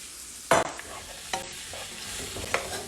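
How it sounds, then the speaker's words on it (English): Cooked rice lands in a pan with a heavy thud and scrape, followed by a few more spatula scrapes and stirring knocks over a soft background sizzle. "And then I have my other pan over here. We're gonna dump the rice."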